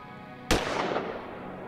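A single sharp gunshot cracks out inside a house during a film scene, striking suddenly after quiet and leaving a short, decaying echo.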